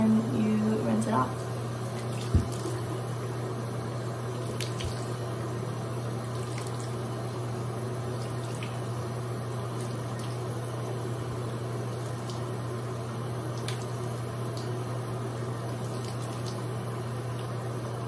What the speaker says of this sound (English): you get some warm water, so I turn the water on